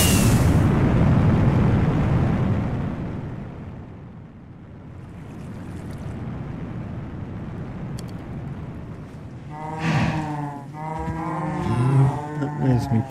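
Cows low on a cow farm in the video game Create: Astral, a few drawn-out moos rising near the end after a stretch of broad, rushing rumble that fades to a quieter bed.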